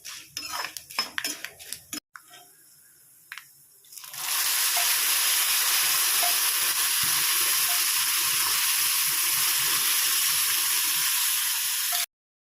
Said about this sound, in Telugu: పోపు అయితే వేగిపోయిందండి. ఇప్పుడు మనం పప్పులో కలిపేసుకుందాము.